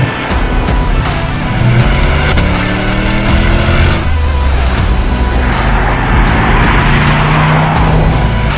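A red Corvette Stingray sports car drives past at an airport, its engine loud and close with a steady roar, shifting tones and some tire noise throughout.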